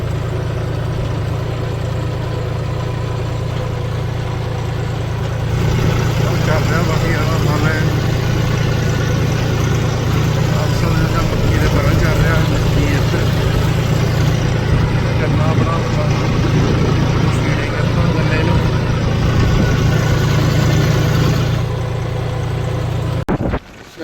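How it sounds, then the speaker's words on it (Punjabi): Two New Holland 855 tractors work a field with a rotavator, their engines a loud, steady, close diesel drone that runs throughout, with people talking over it. "ਬਈ ਹੌਲੈਂਡ 855 ਦੋ ਟਰੈਕਟਰ ਲਾਏ ਵੇ"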